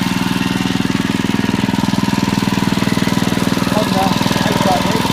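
Honda HRD535 lawnmower engine running steadily nearby, a loud, fast, even mechanical chugging throughout, with a voice speaking briefly over it.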